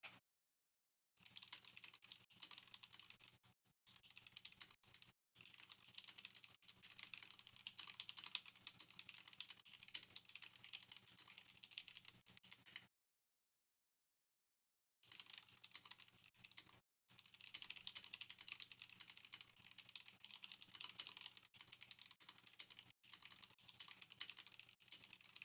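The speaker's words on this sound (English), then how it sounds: "I should do some typing before I take all the keycaps off" Someone types on a computer keyboard with its keycaps still fitted, giving close, brisk clicky runs of keystrokes with brief pauses and one long silent gap midway.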